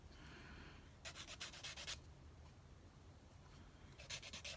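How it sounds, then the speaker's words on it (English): A sanding stick rubs a plastic part of a 1:24 scale Escort Mk2 RS1800 model kit in short bursts of dry scratchy rubbing, a quick pass then a pause and another pass, close up and fairly quiet. "it's just going to take a quick pass with the sanding stick"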